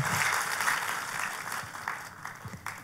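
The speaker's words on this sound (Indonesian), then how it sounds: "Kalau mau tepuk tangan, tepuk tangannya boleh yang paling meriah buat Yesus Tuhan kita." Church congregation clapping during a sermon service, a broad continuous wash of applause at moderate level that slowly thins toward the end, with a few scattered louder claps.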